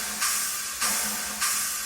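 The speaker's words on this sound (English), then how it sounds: "which is basically more the overheads and cymbals and everything." Cymbal and overhead-mic layer of a drum sample: three bright, washy crashes roughly every 0.6 seconds, each one swelling over a steady high hiss, with no voices.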